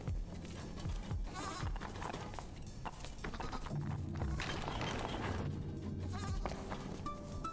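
Goats bleat in the puzzle video game Creaks, with repeated animal calls and hoof-like clip-clop steps over a steady game soundscape.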